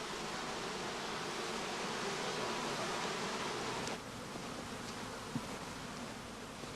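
Honeybees humming around straw skeps at a heather apiary, a constant thick drone that dips slightly partway through and then carries on with a faint click.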